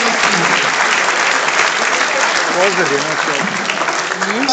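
Loud audience applause fills a university hall at Panjab University, Chandigarh, steady dense clapping throughout with some voices faintly mixed in toward the end.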